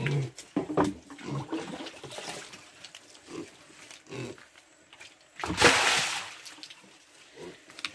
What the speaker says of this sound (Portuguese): você joga a água, desce toda pra lá, já vai levando a sujeira que tá no chão